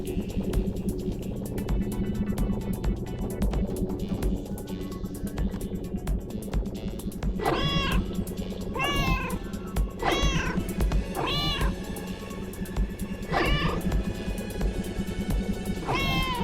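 A cat meows in a cute cat video game, about six clear, rising-and-falling meows in the second half, spaced a second or two apart over a steady game music bed.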